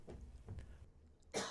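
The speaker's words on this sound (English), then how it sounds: "We both got the coughs." Someone coughs indoors at a table, a few short muffled coughs followed by one sharper, louder cough at the end, quiet overall.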